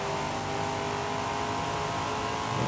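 Corvette C8 engine in a racing video game, revving hard at a steady high pitch, loud and close throughout with no talk.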